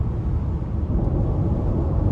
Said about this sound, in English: A little bit of wind noise